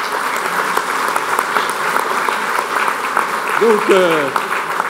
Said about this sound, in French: Je pense qu'on peut l'applaudir d'abord.